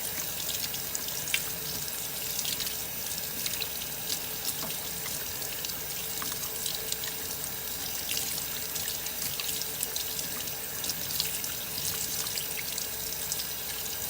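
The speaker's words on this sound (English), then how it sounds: "Just wash them off. Real good." Water runs steadily from a kitchen tap while pork steaks are rinsed in the sink, a continuous, fairly quiet splashing hiss with small irregular spatters throughout and no talking.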